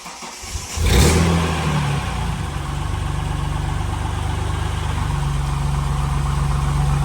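A Barra engine swapped into a Ford BA Falcon drift car cranks briefly, catches with a loud burst, then settles into a steady, rumbling idle heard close up.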